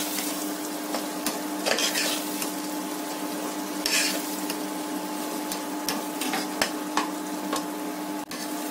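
Ground masala paste frying in a pan makes a close, continuous sizzle, with scattered clicks and scrapes of stirring against the metal and no speech.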